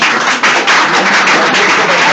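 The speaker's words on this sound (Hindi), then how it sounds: "थोड़ा तालियां बजाइए आप लोग।" An audience at a school event claps steadily, a dense, even wash of applause that keeps going without letting up.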